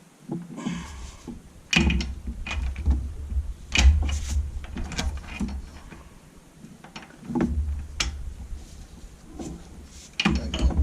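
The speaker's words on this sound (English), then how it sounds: "crack that one bolt loose again." Ratchet loosening a cylinder head bolt on a 2014 Dodge Charger Pursuit engine during head removal for an oil leak, giving a series of sharp clicking bursts and metallic knocks at close range, with brief pauses between them.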